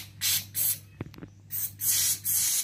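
Carburetor cleaner sprayed onto a fuel filter during service of a Toyota Innova 1TR automatic, heard as four loud hissing aerosol bursts with a few clinks of handling between them.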